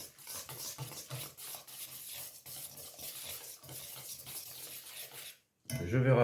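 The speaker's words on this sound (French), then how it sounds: "Je mélange." Egg yolk being stirred into a batter in a bowl, with steady scraping and clinking of a utensil against the bowl running through most of the stretch, a brief pause near the end, then a louder knock.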